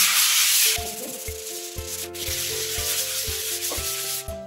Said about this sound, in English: all you have to do is sand it down just a bit to smooth it down